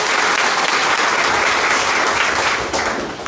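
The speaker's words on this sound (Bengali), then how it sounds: "তাদের জন্য আমরা সবাই করতালি দিয়ে সংবর্ধনা জানাই।" Dense, steady applause from a crowd at a meeting in Sylhet about easy-bike demands, loud and continuous throughout, easing only slightly at the very end.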